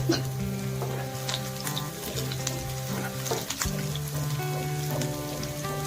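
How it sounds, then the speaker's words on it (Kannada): Finely chopped garlic and green chillies fry in a pan for gobi fried rice, a steady close crackling sizzle with dense popping over a low tonal hum, continuous and fairly loud with no speech. "ಸ್ವಲ್ಪ ಬೆಳ್ಳುಳ್ಳಿ, ಹಾಗೆ ಸ್ವಲ್ಪ ಹಸಿಮೆಣಸಿನ್ಕಾಯಿನ ಚೆನ್ನಾಗಿ ಚಿಕ್ಕದಾಗಿ ಹೆಚ್ಚಿಬಿಟ್ಟು ಹಾಕ್ಕೋಬೇಕು. ಅದು ನೀಟಾಗಿ ಫ್ರೈ ಆಗಬೇಕು."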